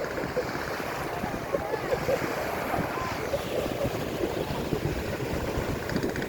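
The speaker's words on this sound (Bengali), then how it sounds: "পানির ঢেউটা খুব সুন্দর" Sea waves roll in near the Nazirartek dry fish village at Cox's Bazar, a steady loud wash of surf mixed with wind buffeting the microphone throughout.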